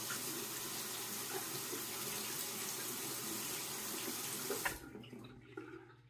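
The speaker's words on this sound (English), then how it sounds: "Now I'm going to rinse the razor" Tap water runs steadily as a Personna II safety razor is rinsed beneath it, a close, even splashing rush that cuts off near the end, leaving a faint drip and quiet.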